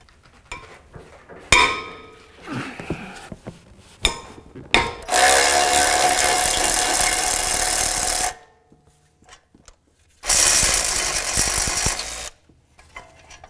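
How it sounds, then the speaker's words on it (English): A breaker bar and ratchet with a 19mm socket loosen the caliper bracket bolts on a 2007-2013 Acura MDX front hub. Sharp metallic clicks and clanks come first, then two long bursts of rapid ratcheting, close and with no talk. "We are going to remove them with a 19mm socket on a breaker bar, and then we'll switch over to a ratchet."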